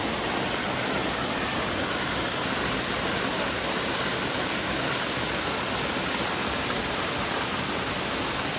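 Roar of the Gozalandia waterfall in San Sebastián, Puerto Rico, heard up close as a loud, steady, broadband rush of falling water with no pauses and no voices.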